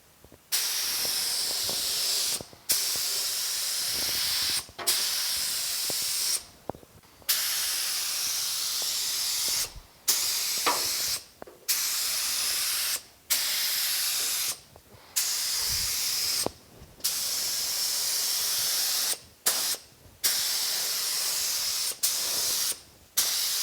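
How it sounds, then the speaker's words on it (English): Primer paint sprayed from a spray gun onto a 1950 Chevy truck during repair work outdoors, repeated hissing bursts of a few seconds each separated by brief pauses, close and steady, with no talking. "Let's get some primer on it and see how it really turned out."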